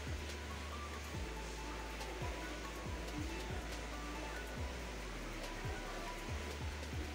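Sliced onion sautés in hot oil with popped mustard seeds in a pan for carrot poriyal, giving a steady, dense sizzle that stays constant throughout.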